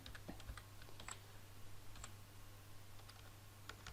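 Someone types HTML on a computer keyboard. Quick, light key clicks come in uneven bursts, close but quiet over a low steady hum, with no talking.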